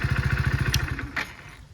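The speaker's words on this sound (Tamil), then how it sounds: "இன்ஜினுக்கு ஆஃப் ஆன பிறகு மறுபடியும் கிளச்சை பிடிச்சா அதுவே ஸ்டார்ட் ஆயிரும்." A Hero Splendor+ Xtec 2.0 motorcycle with i3s idle start-stop sits running, its small single-cylinder engine idling in a steady, rapid low thump. The faint chugging weakens and dies away near the end of under two seconds.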